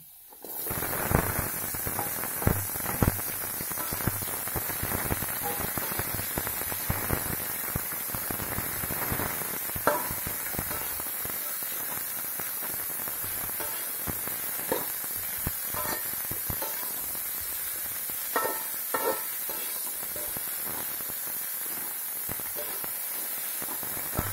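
Broccoli and carrot being stir-fried in a pan, a continuous hissing sizzle with irregular crackles and clatter from stirring, steady and fairly loud, with no talking.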